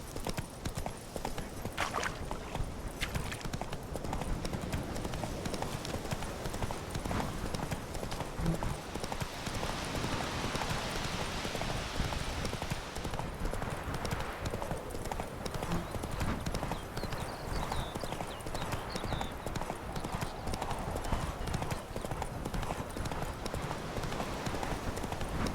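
A horse gallops in The Witcher video game, a fast, steady clip-clop of hooves running without a break and close up throughout.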